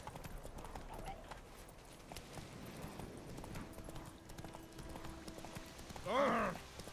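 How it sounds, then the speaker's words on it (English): Horses gallop in a race in the video game Witcher 3, a steady run of hoof clip-clops under low in-game ambience, with a loud horse whinny rising near the end. "I want to see a horse race between Roach, Epona, and..."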